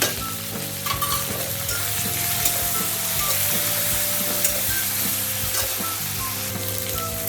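Poppy seeds roast in a kadhai in a loud, steady frying hiss that runs unbroken for the whole stretch, with faint stirring scrapes and a low background hum.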